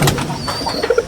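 Pigeons cooing inside a loft give a few brief soft coos over a constant hiss of background noise, close and short.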